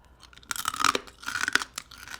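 Dried, hard roasted rice crust (nurungji) being chewed close to the mic, with a run of crisp, crackling crunches in two bursts.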